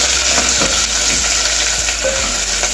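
Onions, curry leaves and spices fry in hot oil for arikela upma, a loud, dense, close sizzle with faint stirring taps throughout.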